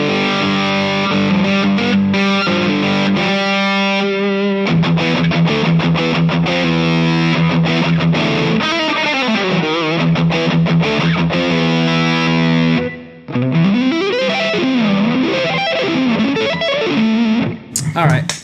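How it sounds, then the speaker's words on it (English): Distortion effect from an Alesis Microverb III rack effects unit processing a guitar or instrument signal, loud and sustained with gritty harmonics, chords and sliding notes, a brief dropout near the end. "Let's hear what it sounds like with the distortion on."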